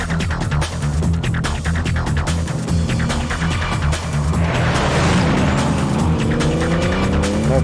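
Porsche engine in the PC racing game Need for Speed: Porsche Unleashed, a steady loud drone with tire noise and a rising tone near the end, heard alone without talk.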